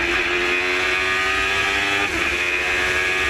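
Formula Gulf single-seater race cars screaming through a circuit's braking zone into a corner, a loud continuous high-pitched engine wail with downshifts and revs shifting as several cars pass close by.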